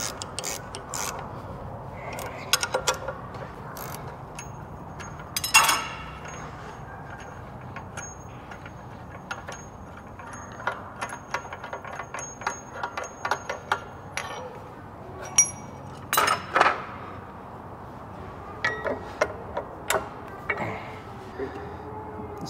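A ratchet wrench clicks in short, irregular bursts while tightening the belt tensioner on a Bobcat, with sharp metallic ticks and clinks from the tool and parts, fairly close and quiet.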